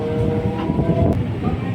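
A train pulls out of a railway station on the Old Delhi to Shamli line, giving a steady, close rumble of wheels and carriages with a brief tonal horn-like note partway through.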